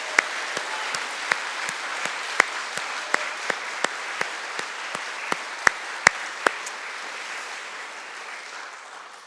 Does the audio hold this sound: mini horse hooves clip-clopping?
no